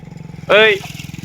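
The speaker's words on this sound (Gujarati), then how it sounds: "ટ્રેક્ટર જોવો, ટ્રેક્ટર આવે જોવો" A tractor engine chugs nearby on a road during an outing near Idar hill fort in Gujarat. Its steady, rapid throb is broken midway by a brief, loud tonal blast.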